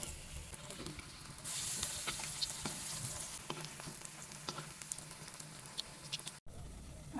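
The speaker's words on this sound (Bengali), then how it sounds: "আমি একটা একটা করে এভাবে কাটলেটগুলো ভেজে নিব।" Breaded fish cutlets frying one at a time in oil give a steady, moderately quiet sizzle with scattered small pops and crackles, running alone with no talk and briefly cutting out near the end.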